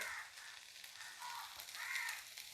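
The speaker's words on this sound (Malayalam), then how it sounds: "കുറച്ച് കറിവേപ്പില ഇട്ട് കൊടുക്കണം അതുപോലെ തന്നെ എരിവിന് പാകത്തിന് വറ്റൽമുളക്" Curry leaves and dried red chilies sizzling in hot oil in a Kerala home kitchen, a soft, steady frying hiss with gentle swells and crackles, faint and close, without talk.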